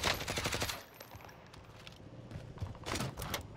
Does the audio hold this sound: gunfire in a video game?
yes